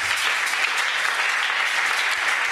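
Sustained, dense applause from a church congregation after a Bible reading, many hands clapping together in a loud, even roar that holds steady throughout.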